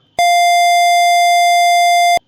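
A single steady electronic beep, a pure bright tone held evenly for about two seconds, then cut off cleanly.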